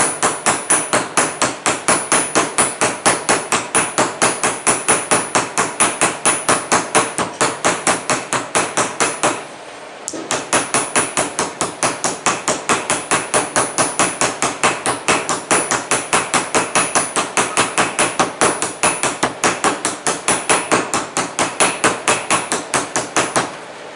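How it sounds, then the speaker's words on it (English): A hammer peens a metal rivet on a snowshoe binding with rapid, evenly spaced sharp taps, loud and close, pausing briefly once before the steady rhythm resumes. "I start the peening process with the hammer actually."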